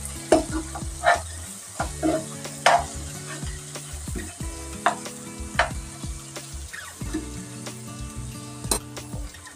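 Egg masala with coriander powder stirred in a hot pan, a steady sizzle of frying under repeated scraping and clacking of the spoon against the pan, close and clear with no voices.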